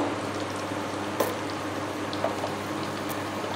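Baby corn pakoras fry in hot white oil, a steady close bubbling sizzle with a few faint pops and light taps, no talking.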